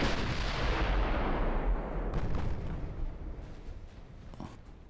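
Naval secondary guns fire in a constant heavy barrage of overlapping booms during a battle in Ultimate Admiral: Dreadnoughts, loud and dense at first, then thinning slightly with scattered blasts.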